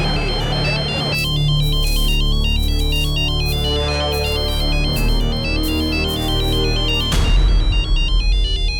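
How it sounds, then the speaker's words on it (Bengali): A loud, close phone ringtone plays a repeating electronic melody on its own for several seconds, with brief background noise at the start and end. "বাবা বাবা ফোন।"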